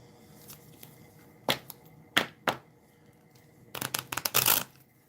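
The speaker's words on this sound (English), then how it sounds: "Let me shuffle my cards" Playing cards being shuffled: a few isolated snaps, then a rapid fluttering riffle near the end, close and crisp against a quiet room.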